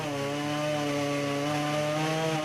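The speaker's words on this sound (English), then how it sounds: "Chainsaw artists like Jamie Doran come here to sell their carvings and demonstrate how it's done" A chainsaw carving wood at a fairground demonstration drones steadily and loudly at close range, a continuous buzzing whine with no voices.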